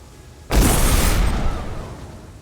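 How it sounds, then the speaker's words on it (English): A single loud bomb blast beside a hot tub in the stealth video game Hitman: Blood Money: a sudden close boom that bursts out and then rumbles away over a couple of seconds. "So I resorted to just throwing a bomb by his hot tub."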